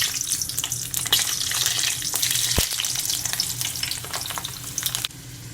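Scotch bonnet pepper and garlic fry in hot oil for crispy jerk fish, making a loud, steady sizzle with a few stirring clatters and one sharp knock partway through.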